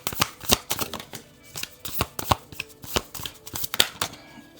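Tarot cards are shuffled by hand in a quick run of crisp riffles and soft slaps, close and fairly loud, with no talking.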